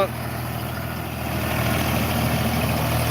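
A tractor engine idles close by in a Punjab village, a steady low rumble that carries on unbroken throughout.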